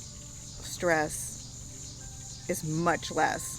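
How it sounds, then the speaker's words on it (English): Crickets chirp steadily outdoors in the countryside, a thin high trill running throughout while someone talks over it; a couple of brief bird calls also break in. "I'd rather sit out here, listen to the crickets, and have the bugs fly around"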